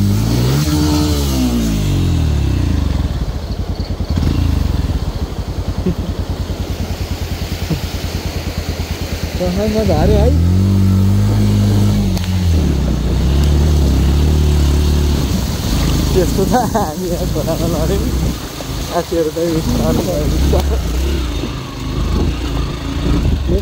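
A small motorcycle engine revs hard and strains while crossing a river stream on a rough back route from Chitwan toward Damauli in Nepal. The engine roars steadily throughout, with surges in the middle, and people talk over it.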